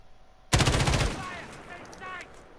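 Sudden automatic weapon fire in the shooter video game Call of Duty: Modern Warfare, a rapid close burst of shots that cuts in from near-quiet and then rings out into a fading echo.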